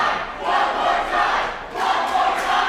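A crowd at a live wrestling event cheers and roars in swelling waves, loud and sustained with no talk over it.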